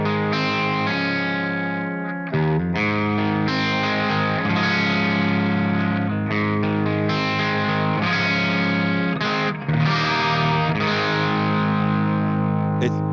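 Electric guitar through a Marshall SV20H amp, humbucker pickup in series mode, plays loud distorted chords and riffs, with brief pauses and ringing sustain, alone without voices.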